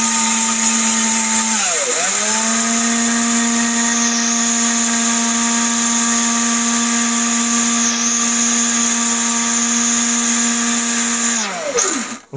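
An electric blender's motor whines loudly and steadily, briefly dipping and recovering near the start because of a loose plug, then winding down at the end.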